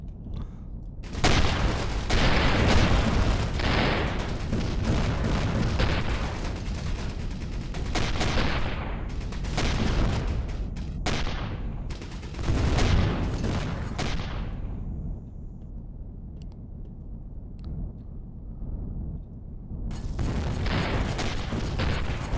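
Ship weapons fire in the space game Avorion: dense, loud bursts of booming cannon shots and rapid gunfire roll on in long barrages, with brief lulls before a final heavy volley.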